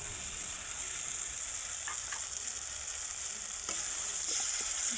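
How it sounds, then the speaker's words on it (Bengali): Mustard paste frying in oil in a pan, a steady soft sizzle with occasional light scrapes of stirring, close and continuous with no talk. "সরষে বাটা দিয়ে দেবো।"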